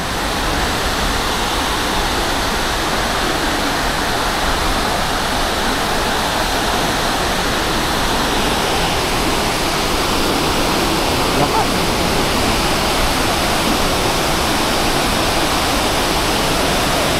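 Water pours over a dam spillway in a dense, loud, unbroken roar that stays constant from start to finish.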